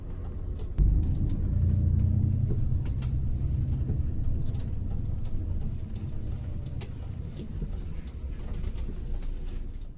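Intercity bus from Seoul to Gimhae driving along a city road, a steady low engine rumble with road noise and occasional faint clicks from inside the cabin.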